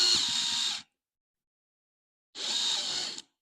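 A power drill's chuck spins in two short whirring bursts, about a second apart with quiet between, as it tightens around a bit.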